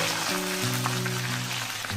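Long-cut strips of dangbodi frying in hot oil give a steady, close sizzle with a soft crackle, heard alone without talk.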